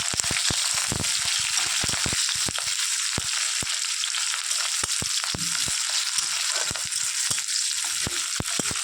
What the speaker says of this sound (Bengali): একটু ভাজা ভাজা মতো করে নেবো আর কি।